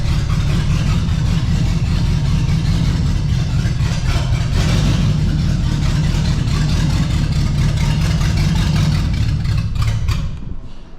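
A 1969 Pontiac Bonneville 428 station wagon engine, a barn find after 45 years parked, runs loud and rough with an uneven idle, loading up, then cuts off near the end.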